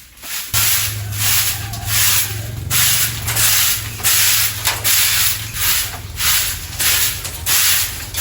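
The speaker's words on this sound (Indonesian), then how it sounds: "di sini saya mau lanjut nyapu dulu di dalam gubuk" A broom sweeps the floor inside a hut in repeated rough, scratchy strokes, loud and close, with a steady rhythm of brushing bursts that carry on without pause and no talking.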